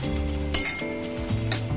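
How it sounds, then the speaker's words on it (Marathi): Lid lifted off a pot of nearly cooked rice for coconut rice, giving a couple of soft metallic clinks over a low steady hum and faint simmering sizzle, close by. "आता आपण झाकण खोलून पाहूया."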